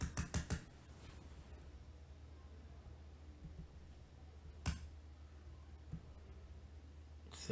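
Computer mouse clicks while working in SAP software: a quick cluster of sharp, faint clicks at the start, then single clicks spaced several seconds apart, all over a quiet background hiss.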